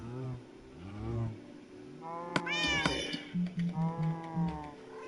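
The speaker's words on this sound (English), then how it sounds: "You fucking cat." A Minecraft cat meows repeatedly, loud and close, in drawn-out whiny cries with a sharp yowl in the middle and quick chirping meows after, with no talk.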